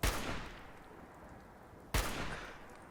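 Two gunshots from the video game Fallout 4, each a sharp loud blast followed by a long rolling decay, the second arriving about two seconds after the first, with no talking.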